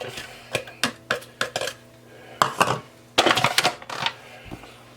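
Chopped onions tumble into a plastic food processor bowl while making a sauerkraut, sausage and potato soup, landing as a close, irregular run of sharp clattering taps and knocks, with no talking.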